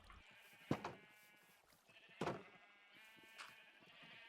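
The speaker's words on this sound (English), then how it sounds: "It's a pretty noisy area with all the sheep and stuff." Several faint Minecraft sheep bleats in a quiet setting, a couple of short cries followed by a longer wavering one, spaced a second or so apart.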